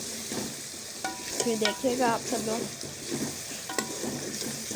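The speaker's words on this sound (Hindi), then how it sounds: "अब हम इसमें जो हमारे चने उबल गए थे वो डालेंगे" Boiled black chickpeas stirred into freshly fried masala in a pan, giving a steady close sizzle with scraping stir strokes, while a person talks briefly over it.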